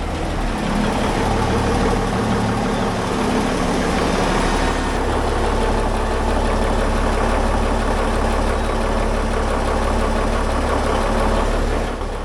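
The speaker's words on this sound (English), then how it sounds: "let's go fire the engine up" A boat engine being tested ahead of sea trials runs loudly and close for the whole stretch, with a continuous rough, rumbling idle that stays steady throughout.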